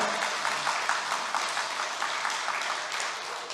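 A church congregation claps during a worship service, giving a dense, steady burst of applause that holds at an even level for a few seconds.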